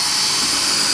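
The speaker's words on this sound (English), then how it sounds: "I'm going to pre-drill this one right here" A power drill pre-drilling holes in wood in a shop runs as a steady, loud high-pitched whine throughout, close up and alone with no talk.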